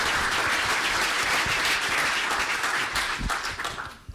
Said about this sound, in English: Can I get an applause for Leif?